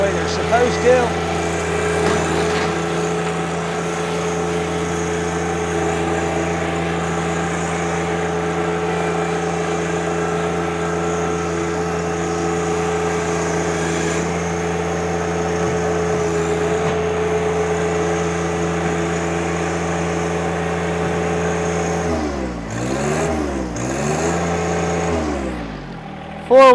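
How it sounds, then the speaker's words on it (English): A 2020 John Deere 1025R sub-compact tractor's diesel engine droning steadily as the auxiliary hydraulics load it down, a constant close hum that wavers and dips in pitch near the end. "you can hear it hold the motor down. That is the auxiliary hydraulics out front"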